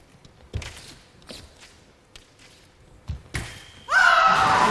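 Spectators at a fencing semifinal in the Inverclyde National Sports Centre stamp on the stands, scattered heavy thuds and thumps, then a sudden loud surge of crowd noise near the end.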